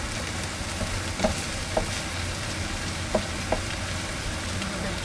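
Onions and ground sloppy joe meat fry in a pan with a dense, steady sizzle and crackle, broken by a few soft clicks of a utensil stirring.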